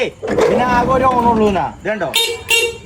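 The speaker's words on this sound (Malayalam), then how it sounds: "ഹോണൊക്കെ അടിപൊളി നല്ല കണ്ടീഷൻ ഹോണാണ്" A car horn in good working condition honks in loud tonal blasts, mixed with voices and short bright bursts of sound near the end.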